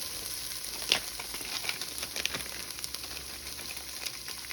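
Soft, continuous sizzling and crackling of ingredients sautéing in a pan, steady and fairly quiet, with a few brief scrape-like ticks over several seconds.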